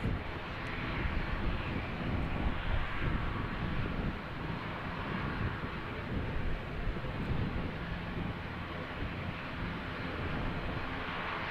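A passenger airliner taxis quickly at Christchurch Airport, New Zealand, its jet engines producing a loud, continuous broadband roar with some wind buffeting on the microphone and no talk.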